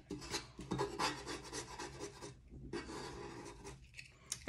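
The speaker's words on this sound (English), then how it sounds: "just smoothing it out as you go" Hands smoothing a sublimation wrap onto a tumbler give soft, steady rubbing and rasping strokes, close and fairly quiet, with a short pause partway through and no talking.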